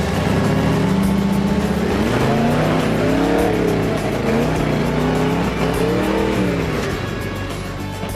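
Rock crawler racing engines rev and strain over granite, a loud, continuous roar with rising and falling throttle sweeps that eases slightly toward the end.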